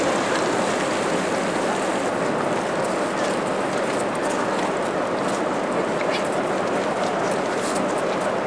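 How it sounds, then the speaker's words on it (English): Steady rain falling outdoors in Norway, an even hiss of drops holding constant throughout with no breaks, loud and close, with no one talking. "It's raining."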